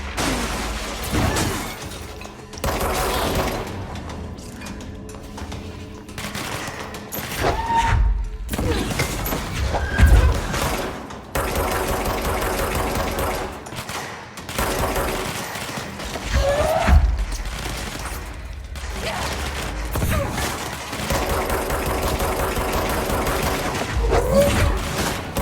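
Gunfire and impacts in the action game Control, with repeated bursts, thuds and shattering crashes over a steady dense game soundscape lasting throughout.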